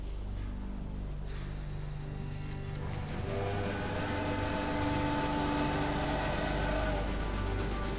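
Train running in the railway management game Railway Empire, a steady rumbling drone with sustained engine hum and tonal whine that grows fuller after a few seconds, continuous and fairly loud with no talk.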